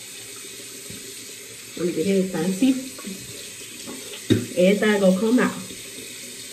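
Hot water gushing from a tap in bursts, starting and stopping a couple of times with splashing up close, while someone talks over it.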